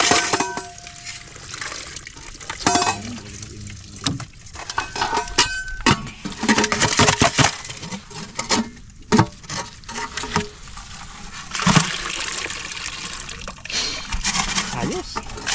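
Rinsing with clean water, with patters, splashes and light clinks of containers scattered over a busy stretch, close and fairly loud, while people talk throughout.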